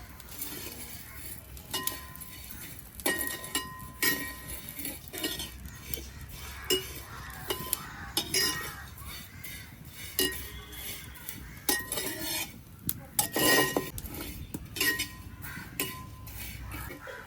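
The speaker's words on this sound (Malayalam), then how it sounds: "സേമിയ ഇട്ടു, വറുക്കല്ലേ മാ?" Vermicelli is roasted in ghee in a bell-metal uruli and stirred with a ladle, giving repeated close metallic clinks and scrapes with faint sizzling and occasional voices.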